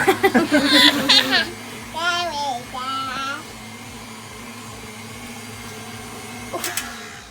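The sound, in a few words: mixer mixing cookie dough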